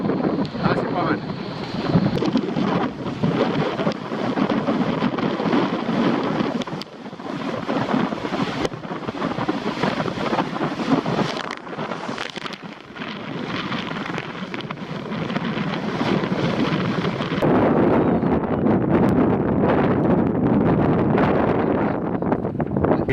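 Sailboat racing in the Tartine Cup regatta near l'Espiguette, strong wind buffeting the microphone in loud gusts with water rushing past the hull, continuous and close.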